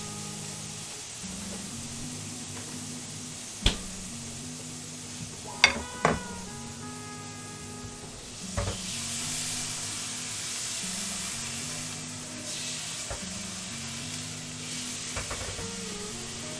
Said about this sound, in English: Add some chicken stock to our pan here.